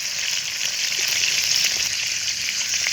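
Ground spice paste of onion and dried chili frying for beef curry in a pan on a clay stove, a loud continuous sizzle and hiss filling the whole stretch, alone with no voices.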